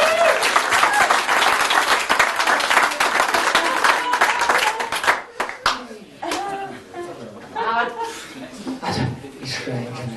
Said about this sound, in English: Give this lady a round of applause and she goes back to the audience.